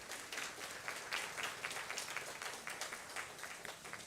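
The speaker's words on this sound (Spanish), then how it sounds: "Un fuerte aplauso para ella también, por favor." An audience applauds a panelist at a forum in Guatemala, with dense, fairly quiet clapping that stays even throughout and has individual claps standing out in a steady patter.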